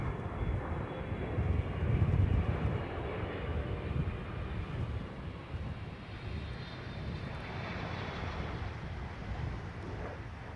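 A Saudi airliner in old-to-new style livery comes in to land on runway 09L at London Heathrow, its engines a broad sustained roar that swells early then settles into a steady distant rush with wind noise, no talk.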